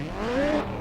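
Racing video game cars revving on the grid at the Nürburgring Nordschleife, a brief, loud, rising engine rev lasting under a second.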